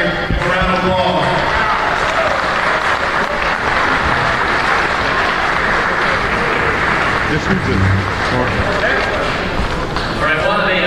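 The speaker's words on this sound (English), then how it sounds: "Give a round of applause." Audience applause at a high school early signing day event, a continuous wash of clapping and crowd noise with a voice speaking over it throughout.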